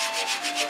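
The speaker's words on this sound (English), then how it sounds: "I'm just sanding really, really lightly here." Light hand sanding of body filler on a 1956 Cadillac fender gives a soft, close rasp in a few quick, rhythmic back-and-forth strokes, heard alone.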